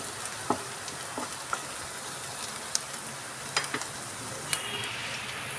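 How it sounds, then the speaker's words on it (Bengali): Chopped onion and green chillies frying in hot oil, a steady crackling sizzle with scattered pops and light utensil taps, close and continuous, no voices. "তো পেঁয়াজ আর কাঁচা লঙ্কাটাকে আমি খুব ভালো করে ভেজে নেব।"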